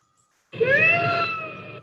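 A bobcat gives a single drawn-out, wavering cry with a rising then slowly falling pitch, close and fairly loud, lasting over a second after a silent start.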